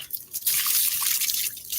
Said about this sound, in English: Rinse that color off it.